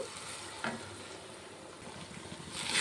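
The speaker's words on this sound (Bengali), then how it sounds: "মশলাটাকে সুন্দর করে কষিয়ে কিছুক্ষণ রান্না করে নেব" Spice paste of turmeric, salt, chilli powder and a splash of water frying and being stirred in a pan while it cooks down, a steady close sizzle with scraping stir strokes, louder briefly near the end.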